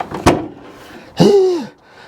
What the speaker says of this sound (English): Yes, I'm going to open the door.